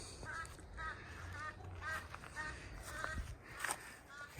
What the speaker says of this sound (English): there's a crow complaining over there.